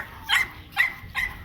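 Several dogs bark outdoors in a yard, three sharp barks spaced about evenly over a second and a half, at moderate distance over a low background hum.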